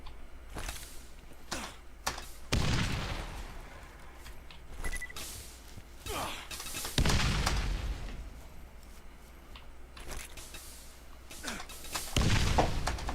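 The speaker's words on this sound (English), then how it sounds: "Or you could grenade jump your way up." Grenade explosions from the Borderlands video game burst out one after another in several loud, booming hits spread irregularly across the stretch, with quieter game ambience between them.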